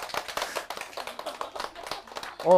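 Scattered hand claps from a small class of physics teacher-exam students in a lecture room, a steady run of fairly close, uneven claps lasting a couple of seconds with no speech over them.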